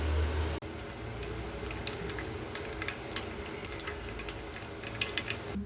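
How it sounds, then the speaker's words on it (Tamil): Mustard seeds splutter in hot sesame oil in a pan, with faint, scattered crackles and pops over a soft, steady sizzle. "கடுகு பொரிஞ்சிருச்சுங்க."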